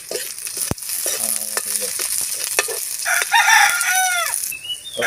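Onion and chili stir-frying in a pan for tofu with oyster sauce, a steady close sizzle with scraping strokes throughout, while a rooster crows in the background and a voice speaks briefly.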